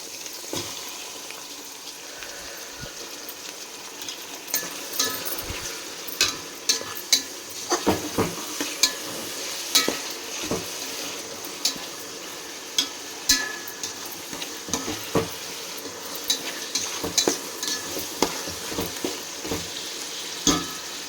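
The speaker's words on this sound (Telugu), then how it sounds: "ఈ టమాటా ముక్కలు కూడా కొంచెం మగ్గాలండి." Tomato pieces frying in a hot pan, a steady sizzle broken by repeated sharp clinks and scrapes of a spoon stirring against the metal.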